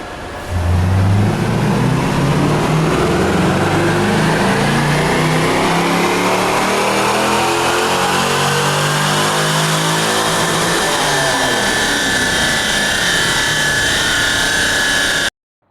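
A car engine runs on a dyno at a rich air-fuel mixture, its loud, steady roar climbing in pitch as it revs up through a continuous pull of about fifteen seconds, with no talking.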